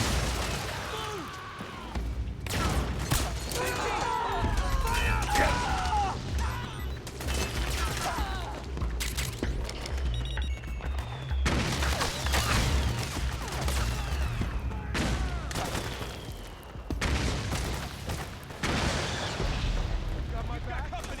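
Suppressing gunfire erupts in the video game Metal Gear Solid 4, dense rapid bursts of automatic fire and explosions overlapping continuously, loud and near, with shouted voices running underneath the battle.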